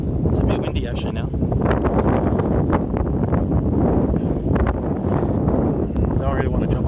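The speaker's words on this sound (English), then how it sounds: "It's a bit windy actually now." Steady, heavy wind buffets the microphone outdoors by the rocks of an aquatic reserve, a continuous low roar that never lets up, with people talking faintly underneath.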